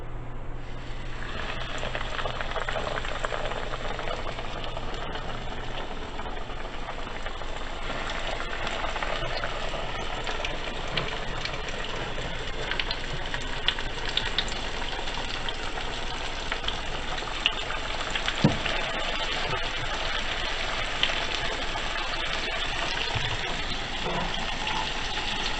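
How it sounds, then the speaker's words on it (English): Chicken fried steak frying in hot oil: a steady, dense sizzle and crackle that holds at an even loudness throughout, close by, with occasional sharper pops. "we're just gonna drop it in this oil"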